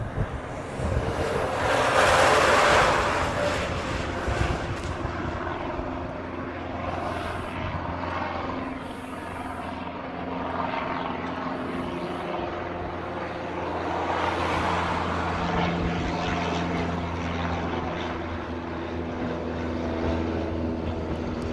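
A Hawaiian Airlines airliner takes off at Honolulu toward the reef runway, a broad steady jet roar that swells around the start and again midway, then holds as a sustained rumble with no voices.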